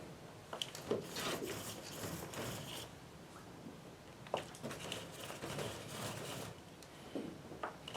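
Hands rub potting substrate into the cells of a seed tray, making soft, faint, continuous rustling and scraping with small gritty bursts.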